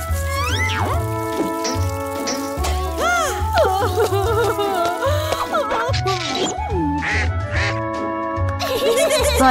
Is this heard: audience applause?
no